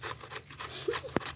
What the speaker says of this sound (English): We grate the carrots like that